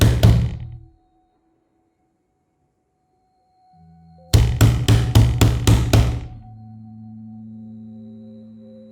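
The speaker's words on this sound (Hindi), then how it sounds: "दरवाजे पर हो रही ठक ठक की दस्तक ने अचानक मुझे नींद से जगा दिया।" Sound effect of knocking on a wooden door for a Hindi horror story: a firm double thump, a pause, then a quick burst of about seven sharp raps, close and loud, followed by a low sustained tone.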